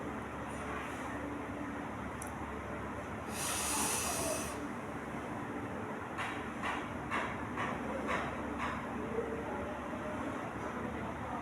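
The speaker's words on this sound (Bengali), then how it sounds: "নাক দিয়ে পর্যাপ্ত পরিমাণে অক্সিজেন ফুসফুসে নেব, নিয়ে ধরে রাখবো যতক্ষণ পারি" Deep pranayama breath, drawn in through the nose and let out slowly through the mouth, with one strong breathy rush standing out near the middle over a steady background hiss.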